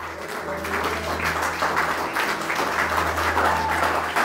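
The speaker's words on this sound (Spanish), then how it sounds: "dale un aplauso al Señor." A church congregation applauding during a Spanish-language worship service, a sustained wash of many hands clapping together in a large room, steady throughout, with a low hum beneath.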